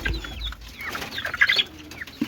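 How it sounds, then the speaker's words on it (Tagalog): Growing chicks peep in a chorus of short, high chirps that come close and clear over a low background rumble. Some calls are brighter and louder in the middle of the clip. "Malalaki na po yung ating mga sisiw."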